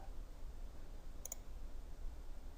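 A single right-button click of a computer mouse during CAD drawing work, a brief faint double tick standing alone over low background hiss.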